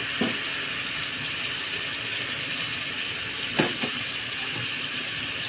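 Ginger and garlic paste with a little water being stirred into fried rohu fish head in a pan: a steady soft sizzle with a few brief scraping knocks of the spoon, close by, with no talking.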